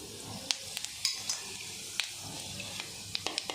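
Fennel seeds dropped into hot mustard oil give a close, crackling sizzle, with sharp scattered pops and spatters over a low frying hiss.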